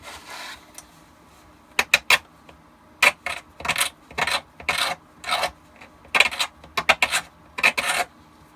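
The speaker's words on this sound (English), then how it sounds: "use some sandpaper, takes care of it right away" Sandpaper worked by hand along the rough edge of a Shadow Trooper armor piece, heard as a series of short, close rasping strokes in irregular bursts with brief pauses between them.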